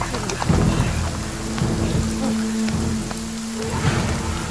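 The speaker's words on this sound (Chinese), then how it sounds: "哎呦，下雨了！" Rain suddenly begins falling on a street with an umbrella seller's stall, a dense close patter on surfaces with a low rumble underneath and a brief tonal hum midway.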